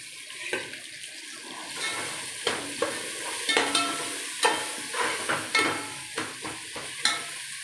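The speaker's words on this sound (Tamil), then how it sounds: "நம்ம அடுத்ததாக புதினாவும் கொத்தமல்லியும் கொஞ்சம் போட்டு நல்லா வதக்கிடலாம்" Mint and coriander sauté in oil for chicken biryani, a soft sizzle under rhythmic scraping stirs that come about once a second, close up.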